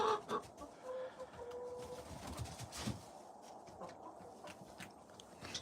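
Soft, low Rhode Island Red hen clucks and murmurs at a distance, scattered irregularly over quiet outdoor background.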